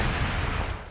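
A continuous, dense rumble of bombing explosions in the multiplayer shooter Devil's Third, loud and broadband throughout with no pause, as if from an airstrike close by.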